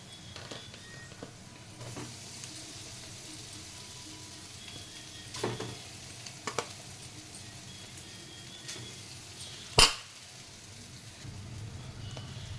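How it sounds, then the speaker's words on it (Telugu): Rice is stirred into butter in a pan for paneer fried rice, with a quiet, even sizzle carrying a few soft scrapes and one sharp clack near the end, no voices. "మనం ఈ రైస్ని ఇప్పుడు కలుపుకుందాము"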